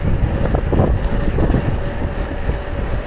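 Strong wind buffeting a microphone while cycling downhill out of town, a loud continuous roar with gusting rumble and no talking.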